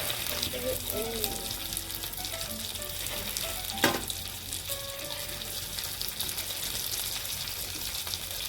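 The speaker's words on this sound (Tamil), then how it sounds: "இந்த மீன் பொறிக்கும் போது" Fish frying in a pan with steady, close sizzling and crackling oil throughout, plus a brief clatter midway.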